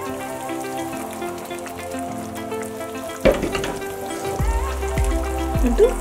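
Kerala fish curry (meen vattichathu) bubbles and sizzles in a clay pot that is swirled by hand rather than stirred, a steady close frying hiss with a knock and scraping shifts of the pot partway through.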